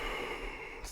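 One steady, breathy exhale during a strong vinyasa yoga flow in a low lunge, airy and close, over a soft background hum.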